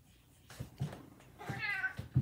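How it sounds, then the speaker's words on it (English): A house cat meows for attention, giving a few close, plaintive meows, including one longer drawn-out call in the middle, against a quiet indoor background. "Oh, my cat is complaining,"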